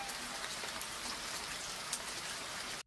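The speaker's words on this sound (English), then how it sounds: "Do you think the rain will stop soon, or should we stay here forever?" Steady rainfall patters on surfaces outdoors, a dense even hiss with scattered individual drops ticking out clearly, ending abruptly.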